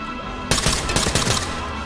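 A sudden, close burst of rapid gunfire in the tactical shooter Ready or Not, several loud overlapping shots packed into about a second and a half after a quiet start.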